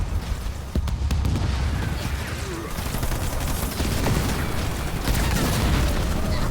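Continuous ground-troop gunfire and explosions in the Halo Wars 2 real-time strategy game, a dense, loud battle barrage of overlapping shots and booms with no pauses.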